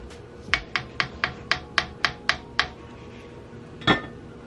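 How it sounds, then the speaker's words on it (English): A pot lid is handled over a simmering pot of curry turkey wings, giving a quick series of about ten light metallic clinks, then one louder clatter as it settles, close and with no talking. "I'm going to put the lid on this"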